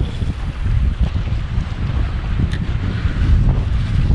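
Wind buffets the microphone at a lake shore during open-water salmon fishing, with waves lapping and washing steadily underneath in a loud, continuous rough rush.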